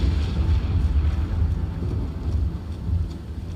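Low rumbling thunder in the Elden Ring game, rolling continuously in rough, heavy swells across the whole stretch with no speech.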